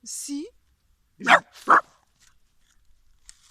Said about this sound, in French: C'était mon chien.